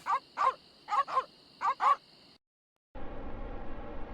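Piranha poodle creatures in the StarRupture video game give sharp, yappy barks in quick pairs, about six in all. A short silence follows, then a low rumbling background.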